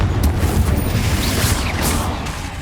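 A Confringo fire spell blasts in Hogwarts Legacy during combat, a loud rumbling burst with crackling debris and low booming energy that holds steady for a couple of seconds.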